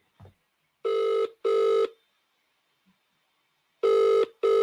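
An outgoing phone call's ringback tone sounds in four clear, evenly pitched pulses grouped in two pairs, with a short click at the start and silence between.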